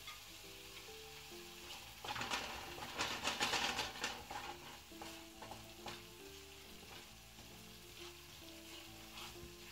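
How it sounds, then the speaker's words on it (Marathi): Curry leaves hit hot masala for a Maharashtrian mung dal aamti and set off a loud, crackling sizzle burst that swells and then settles into a steady frying hiss, with background music throughout. "आधी मी कढीपत्ता घालते।"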